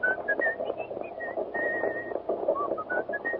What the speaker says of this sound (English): Go on, whistle it again.